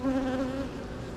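Honeybees at an open hive give off a close, steady, humming buzz that fills the whole brief moment.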